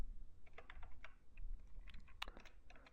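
Light, quiet tapping on a computer keyboard, a handful of irregular key clicks over a faint room hiss, with no voices.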